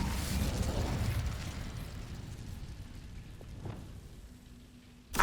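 A fire spell cast in the Hogwarts Legacy video game, a loud whooshing burst at the start that fades into a lingering crackle, ending with a sharp pop.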